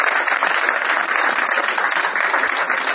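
An audience applauds Jesus of Nazareth with dense, continuous clapping from many hands, loud and sustained from start to finish.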